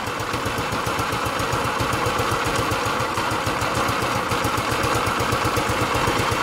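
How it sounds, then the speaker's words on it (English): A hot 150cc GY6 scooter engine idles close by with a steady, fast, even putter that holds a constant pace and loudness throughout, with no talk. "Always set your idle with a hot engine"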